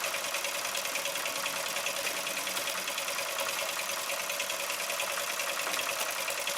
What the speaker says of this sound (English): So let's let it spool up and enjoy the sounds.